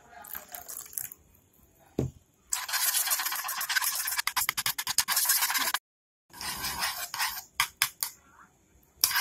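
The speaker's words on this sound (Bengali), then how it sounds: "খুব ভালো করে ফেটিয়ে নিন প্রয়োজন মতো একটু জল মিশিয়ে দিন" Carbonara pasta sauce with mayonnaise and a little water being beaten vigorously in a bowl, close rapid scraping and clinking of a utensil in bursts, broken by short silent pauses.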